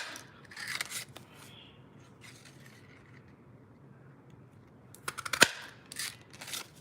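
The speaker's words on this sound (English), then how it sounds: "this is the bow punch, or bow punch. And I'm going to cut out just a couple of the little ones first" A bow-shaped paper punch cutting small bows from paper, a few sharp crisp clicks and snaps up close, with quiet rustling handling between them.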